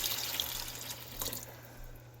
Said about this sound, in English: with this I'm going to do 4 cups of water